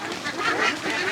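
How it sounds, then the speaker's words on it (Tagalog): A dense chorus of ducks quacks steadily on a farm holding a few hundred of them, a continuous overlapping clamor heard close and fairly loud throughout. "Tanawa, perting daghanang itik sa loyo na awa."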